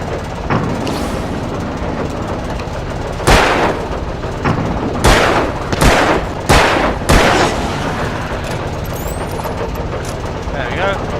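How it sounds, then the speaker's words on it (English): Flare gun shots fired in the video game Alan Wake, several loud sharp bangs spaced a second or two apart over a dense, rumbling game soundscape. "just keep killing them like that. Using a flare gun."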